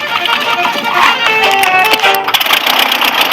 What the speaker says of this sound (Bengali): এর আওয়াজটা লন মোভার ইঞ্জিনের মতো কেন?